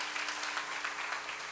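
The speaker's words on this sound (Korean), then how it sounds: "하나님께 박수 한번 치세요" Brief, steady applause from a church seminar audience, many hands clapping evenly at moderate loudness, with a faint low hum beneath.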